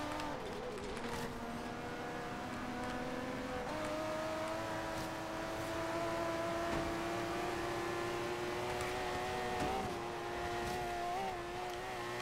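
A Mercedes CLK GTR racing engine in the Forza Horizon 3 video game drones loudly and continuously, its pitch climbing through gear changes as the car accelerates, with layered engine tones from other race cars nearby.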